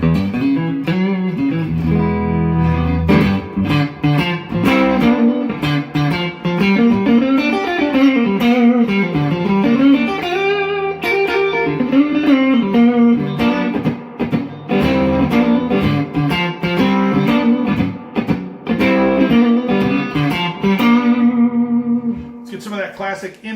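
Music Man Cutlass electric guitar on its neck pickup, played clean through a Fender Tone Master Deluxe Reverb amp; a continuous run of picked notes and chords, close and loud, with a short held chord near the end.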